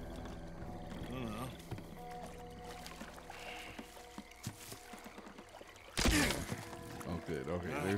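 Rowboat moving across water in Red Dead Redemption 2, its watery splashing and creaking game audio running steadily under voices talking, with a louder burst of motion near the end.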